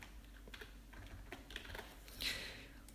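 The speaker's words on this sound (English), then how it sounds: "And now you can start typing your essay." Quiet, close typing on a computer keyboard, a quick irregular run of soft key clicks with one slightly louder tap near the end.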